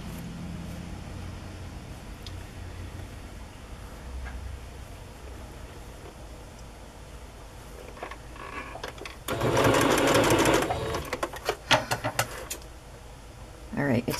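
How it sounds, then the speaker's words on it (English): A sewing machine stitching lace runs with a steady low hum, then a loud fast burst of needle stitching near the end, with a voice talking over parts of it. "then it started sewing smoothly"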